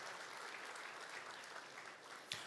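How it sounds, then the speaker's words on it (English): Faint, distant applause from the audience at a conference opening ceremony, a soft continuous patter of clapping with one sharper knock near the end. "Make the applause a lot better for our minister."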